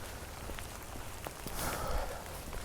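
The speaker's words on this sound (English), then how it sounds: "the rain is still steadily falling and it's still very cold" Steady cold winter rain falls outdoors in a park with a wind chill in the twenties, a dense continuous patter of drops with a brief louder swell partway through.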